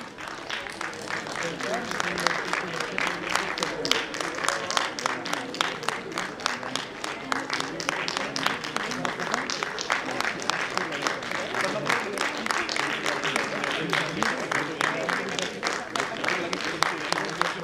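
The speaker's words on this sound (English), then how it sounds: "That's the spirit, the clapping must go on." Sustained audience applause at a college annual day, steady dense clapping from a large crowd filling the whole stretch with a fairly even loudness.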